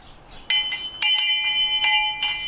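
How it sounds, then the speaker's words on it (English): An old school handbell rings out in a few sharp, bright strokes, each with a shimmering metallic ring that lingers and overlaps the next. "What could have been an old schoolmom's bell."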